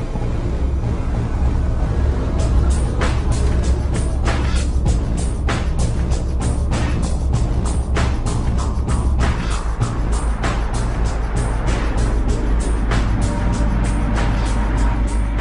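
A refrigerated Volvo lorry loaded with margarine and flour drives into a road tunnel at about 60 km/h, a steady heavy engine drone and deep rumble with rhythmic whooshing pulses, loud and continuous.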